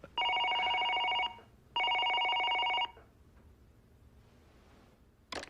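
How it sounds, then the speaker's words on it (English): An office telephone rings with two loud, buzzing electronic trills, each lasting about a second with a short gap between, followed by a quiet room and a faint click. "Congressman Stratton is on the phone."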